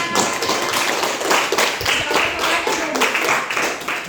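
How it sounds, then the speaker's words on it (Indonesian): A classroom group claps for a fellow student during a school lesson, a dense, steady patter of many hands at close range lasting the whole stretch, with no clear pause. "tepuk tangan untuk temannya"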